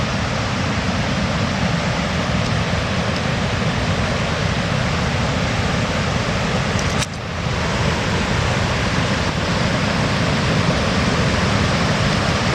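A woodland stream flows a short way downstream of a backpacking campsite in autumn, a steady, dense broadband rush of running water that continues unbroken, with a single brief click partway through.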